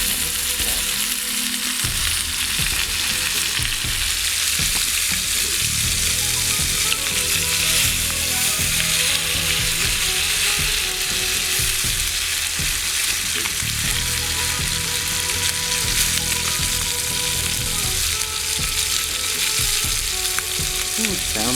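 A game hen pan-searing in a cast iron skillet over a campfire sizzles and fries loudly and steadily throughout, a dense continuous crackle with occasional stirring, close and uninterrupted.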